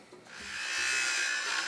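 A power tool cuts material for solar panel racks, starting faint and building within the first half second into a loud, sustained grinding rasp that carries to the end.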